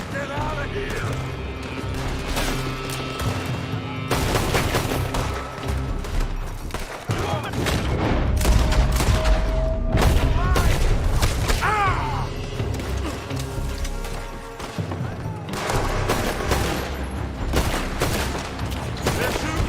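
Shootout gunfire from Red Dead Redemption 2, sharp shots and crashing impacts scattered across a dense, busy mix, with speech-like voices and game sounds running underneath throughout.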